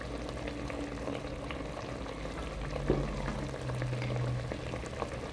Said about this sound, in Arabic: نفرغ عليها البصله والثوم